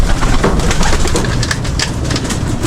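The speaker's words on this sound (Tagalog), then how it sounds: "Ayan yung mga kalapati natin." Pigeons coo repeatedly and loudly up close, their throaty calls overlapping amid a busy background of rustling and scattered noise.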